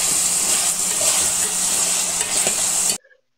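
Chopped tomato pieces fry in a hot pan with a loud, continuous sizzle and a few stirring scrapes, which cut off abruptly after about three seconds.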